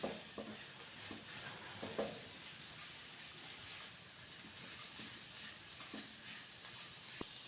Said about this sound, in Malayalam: ഇനി എല്ലാം നന്നായി മിക്സ് ചെയ്ത് കൊടുക്കാം.